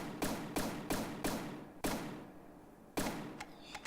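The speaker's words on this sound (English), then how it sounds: "so let's give it a test fire" Test fire of a weapon in a video game: a string of sharp, evenly spaced thumping shots, about seven in all with a short pause partway, close and fairly quiet with no other sound.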